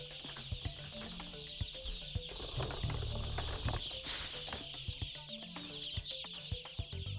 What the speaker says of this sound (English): Scarcely out of their shells for more than an hour, the chicks arrive at their new home